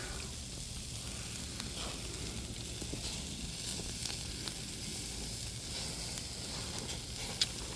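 Butter sizzles around a chuck eye steak in a hot pan, a steady close crackling hiss with faint pops running through the whole stretch and no one talking.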